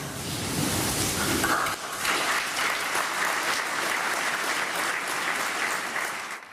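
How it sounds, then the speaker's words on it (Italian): Hundreds of mourners packing a church in Nervesa break into sustained applause at a funeral, a dense, steady clapping that fills the space for several seconds, with a brief dip partway through before it swells again. "far proruppere in un applauso le centinaia di persone che affollano la chiesa di Nervesa"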